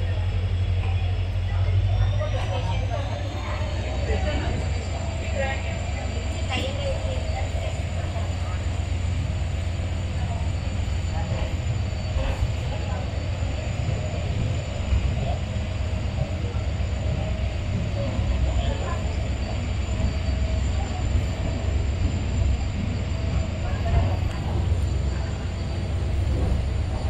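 The 06602 Madgaon Express pulls out of Mangalore Central station, a continuous low rumble of the moving train with a steady whine overhead, while people talk throughout.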